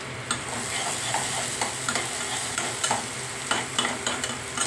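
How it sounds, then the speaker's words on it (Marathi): Sliced onion sizzles in hot oil with bay leaf, peppercorns, cloves and cinnamon while a spoon stirs and scrapes at intervals, a steady frying hiss broken by light clinks, with no talking. "कांदा टाकायचा आहे थोडा परतायला, साधारण 1 कांदा टाकायचा आहे।"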